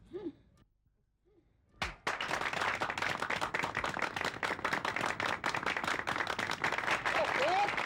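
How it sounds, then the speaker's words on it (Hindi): Audience clapping during a comedy show breaks out suddenly after a brief voice, then continues as a loud, dense, sustained round of applause to the end. "ताली क्या बजा रहे हो?"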